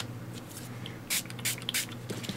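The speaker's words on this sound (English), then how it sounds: "I was going to spray it with this one" Texture spray from a mixed media collage kit hisses out in a few short bursts over a faint background, close and quiet.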